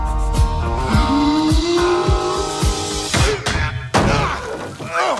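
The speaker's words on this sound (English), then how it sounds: "Oh, shit! He dented the car!" Movie scene with a car being dented: a busy mix of sharp thumps, crunching impacts and a shattering crash over a dense soundtrack and engine-like tones, loud and close throughout.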